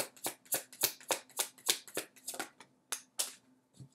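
A tarot deck is shuffled by hand in rapid, evenly spaced riffling flicks, about a dozen sharp bursts that thin out toward the end, close and quiet with no voices.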